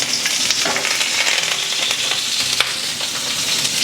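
Asparagus sizzles in a hot pan with oil, star anise, cinnamon stick and curry leaf, a continuous crackling fry with a few stirring scrapes and no talking.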